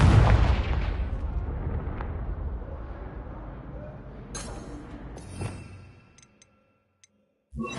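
A Confringo spell explosion in Hogwarts Legacy: a loud fiery blast at the start that rumbles and slowly fades, followed by a few sharp crackling pops, a brief near-silence, then another burst of noise at the end.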